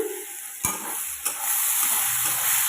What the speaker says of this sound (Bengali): পেঁয়াজটা লাল করে ভাজা হয়ে গেছে অলরেডি এবার দিয়ে দেবো মশলাটা